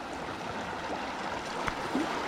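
A Little Giant 1/3 hp submersible pump moves water into a 32-gallon trash can, giving a soft, steady gurgling wash of flowing water, quiet and close, with a couple of small splashy bumps.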